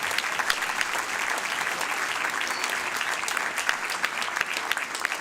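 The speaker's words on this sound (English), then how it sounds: "A big round of applause to all of you for that." A primary school concert audience at a Clarendon Park Primary School jazz band spectacular gives a sustained round of applause, many hands clapping evenly and continuously without a break.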